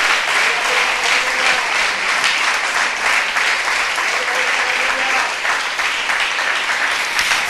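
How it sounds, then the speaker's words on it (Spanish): A church congregation at an evangelistic service gives a sustained round of applause, dense and steady hand clapping that fills the room loudly for several seconds, with faint voices mixed in. "Denle un aplauso al Señor, por favor."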